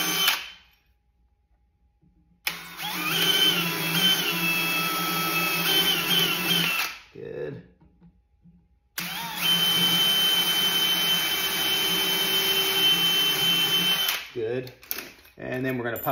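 A power drill bores a pilot hole through a small wooden rail down into the frame of an outdoor shower saloon door. Two long, steady whining runs are separated by a brief pause, with short bursts of drilling at the end.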